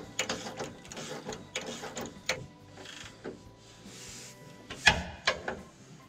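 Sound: ratchet tightening 18 mm bolts on Ram 1500 Mopar tow hooks

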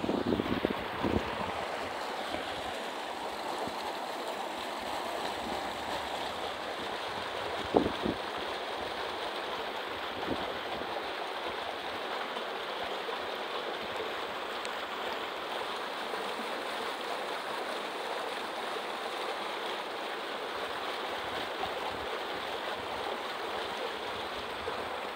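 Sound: waterfall flowing in the mountains

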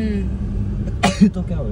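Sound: sneeze

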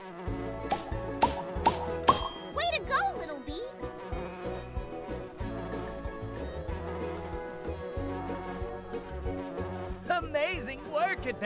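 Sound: bee buzzing in the video game Pollinator Pathway (Nature Cat)

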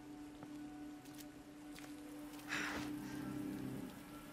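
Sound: rain effect in the video game Resident Evil 2 Remake

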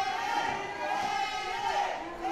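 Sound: wrestling crowd cheering for Xander

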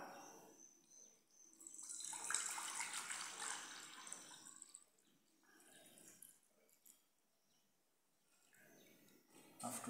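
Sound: cold water poured into a petri dish

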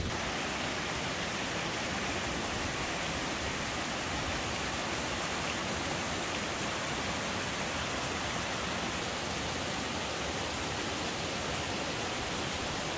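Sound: outlet stream of Toxaway Lake pouring over rock slabs

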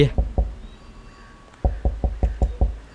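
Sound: knocking on a door, from the video game Cursed Enigma

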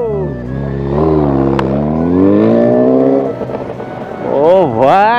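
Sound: Suzuki Hayabusa motorcycle exhaust revving

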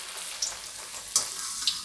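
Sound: wheat papad frying in hot oil

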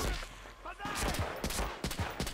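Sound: gunfire from the video game Medal of Honor Rising Sun

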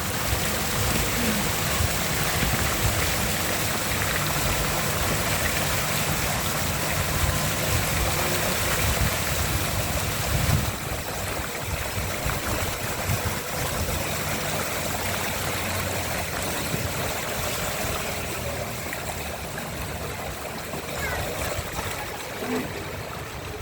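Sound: floodwater streaming over a flooded road

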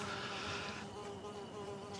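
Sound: flies buzzing around

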